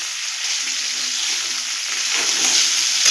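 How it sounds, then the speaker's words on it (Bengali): Cauliflower sizzles in hot oil with ginger and chili powder while being stirred, a steady close frying hiss with a brief clatter near the end. "এবার আমরা এর মধ্যে আদা কুচি আর লঙ্কার গুঁড়ো দিয়ে দেবো দিয়ে এটাকে আমরা ভালো করে নাড়তে থাকবো"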